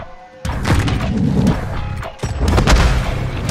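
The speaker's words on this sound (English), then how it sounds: "Tossing frag!" A frag grenade explodes in the Call of Duty MW3 video game, Wasteland map, Domination mode: a loud, close boom with a rumbling crash, followed by a second heavy blast and lingering low rumble.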